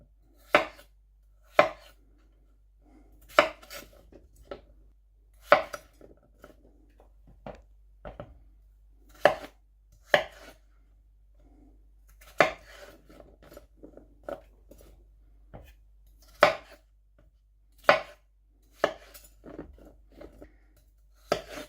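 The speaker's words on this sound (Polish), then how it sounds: "Ziemniaki kroimy na kawałki, mniej więcej takiej samej wielkości." Potatoes cut into similar-sized pieces on a board, sharp knife strikes landing one at a time in an uneven rhythm with quiet gaps between, close and crisp against a silent background.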